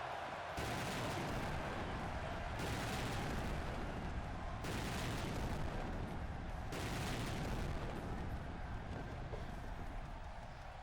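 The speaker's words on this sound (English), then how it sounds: "There's the exploding barbed wire death match." Explosions in an exploding barbed wire death match in the AEW Fight Forever wrestling video game: broad roaring blasts repeating roughly every two seconds, loud and continuous, with no talk over them.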